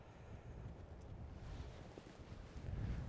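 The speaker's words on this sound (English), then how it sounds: "That wind is blowing pretty strong." Strong wind gusting across a muddy Bristol Channel shore at Kingston Seymour, a low rumbling buffet on the microphone that swells toward the end, with no speech.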